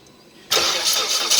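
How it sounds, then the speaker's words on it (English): A Mazda engine catches abruptly after a short quiet lead-in, bursting into a loud, close, rough running roar that surges once more near the end. "Okay, decide to crank it now."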